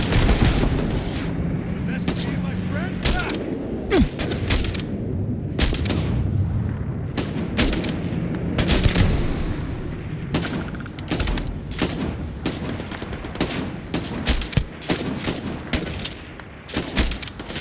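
Gunfire and turret shooting in the video game Starfield, dense bursts of loud shots and booming impacts running continuously, with voices speaking now and then over the firefight.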